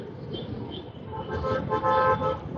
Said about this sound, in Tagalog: ang lakas ng busina niya